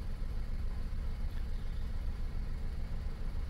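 A Volkswagen Polo 4 with a 1.2 petrol engine and a lit engine warning light idles steadily with a low, even, pulsing rumble, close and constant throughout.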